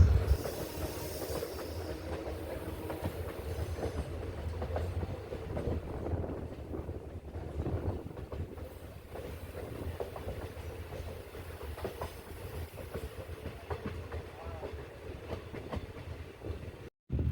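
A train on the Kollam–Chenkotta line slowing as it nears a stop, with a steady low rumble and faint wheel clatter running close and continuous, plus some wind buffeting, then a brief drop near the end.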